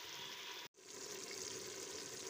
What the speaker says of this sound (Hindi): तो बस इसको थोड़ी सी देर भूनते हैं हम अच्छे तरीके से।